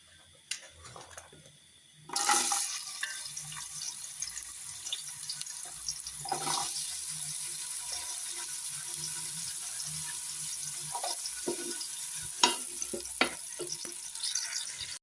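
Onions dropped into a hot pan, a sudden loud sizzle that settles into steady frying hiss with occasional pops and clinks, after a quieter start.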